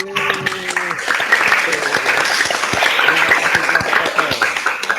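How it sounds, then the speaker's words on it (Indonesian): A group of students applauds the best presenting group in an online class, a dense burst of clapping mixed with voices that carries on for several seconds. "beri aplaus"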